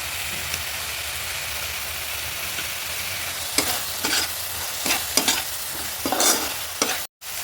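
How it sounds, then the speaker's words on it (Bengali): Onion and spices with cumin and coriander powder are stirred and sautéed in a pan for a Bengali doi katla fish curry, giving a low steady sizzle with intermittent scraping stirs that grow busier toward the end. "আমি পেঁয়াজ আর মশলাটা একটু কষিয়ে নিয়ে এবার এর মধ্যে একটু জিরে পাউডার দিয়ে দেব"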